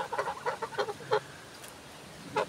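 A goose on a self-sufficient smallholding in Hungary gives a string of short honking calls, fairly faint and from some distance, with a final call after a pause.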